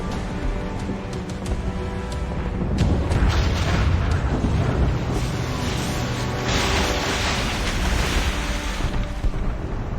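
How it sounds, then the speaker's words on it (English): Ship cannons roar in an Assassin's Creed Rogue naval battle, a dense, continuous wall of booming blasts and rumbling explosions that swells in the middle and stays loud throughout. "Man the cannons!"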